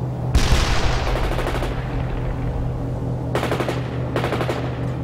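Bursts of machine-gun and rifle fire in the real-time strategy game World in Conflict, rapid rattling volleys at about 0.4, 3.4 and 4.2 seconds over a steady battlefield rumble, with no talk.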